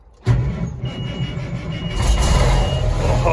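A big rig truck with straight pipes fires up and rumbles loudly, its throaty exhaust swelling further after a couple of seconds, with a faint beeping tone riding over the roar outdoors.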